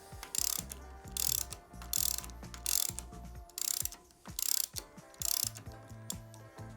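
A ratchet wrench loosening a 15/16 nut on the front end of a Harley-Davidson Sportster, with repeated bursts of rapid clicking at close range, six clicking runs separated by short pauses, and no talking.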